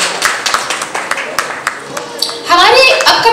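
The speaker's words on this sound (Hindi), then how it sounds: "एक बार प्लीज सभी टीम और हिमांशु जी के लिए जोरदार तालियां" Audience clapping at a stage event for a song launch, a burst of scattered hand claps that swells into fuller applause toward the end, heard under a loud voice over a microphone.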